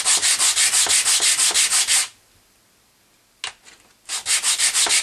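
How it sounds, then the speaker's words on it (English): Heavy-duty sandpaper held down and swiped over a part while cleaning it, a loud run of rapid rhythmic scraping strokes, a pause with a brief scuff, then more quick strokes resuming, close up and alone. "just a matter of a piece of this really heavy-duty sandpaper, and I'm just holding it down and giving it a few swipes"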